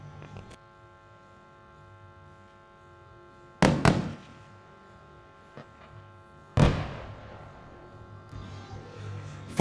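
A 12.7mm anti-material sniper rifle fires at a radar target at a live-fire training event, giving two loud, sharp reports a few seconds apart, each with a short decaying tail over a low hum.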